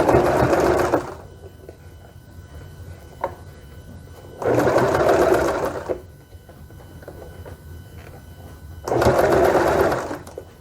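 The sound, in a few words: sewing machine sewing fabric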